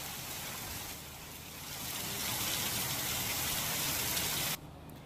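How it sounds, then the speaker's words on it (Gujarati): Rain falls steadily in Gujarat after a four-day break, a dense broadband wash of water noise that swells slightly and then drops away abruptly near the end. "ચાર દિવસના વિરામ બાદ ગાજવીજ સાથે વરસાદની શરૂઆત થઈ છે."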